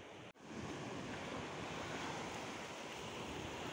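Sea waves surging steadily onto Kovalam beach on the ECR coast, a loud continuous roar of surf with wind across the microphone, unbroken apart from a brief dropout near the start.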